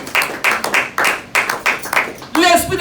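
A church congregation claps in a steady, loud rhythm of separate beats during a French-language sermon, with an amplified voice joining near the end.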